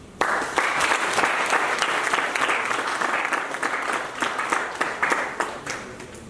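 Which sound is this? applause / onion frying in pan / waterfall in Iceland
applause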